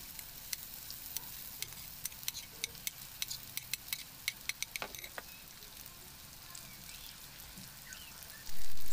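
Sliced potatoes fry in oil on a tawa griddle with a soft, steady sizzle and scattered crackling pops, close but quiet, ending in a sudden louder burst.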